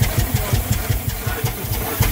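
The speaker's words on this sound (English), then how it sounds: "I'll stop the engine briefly so you can see it." Herreshoff lightweight triple expansion steam engine running, a steady chuffing beat of about five strokes per second with a low thump on each stroke and some hiss around it, heard close up.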